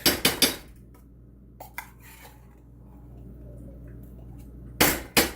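Tomato paste is scraped into a chili pot, with a few loud metallic clanks of a spoon against the rim at the start and end and softer scraping between.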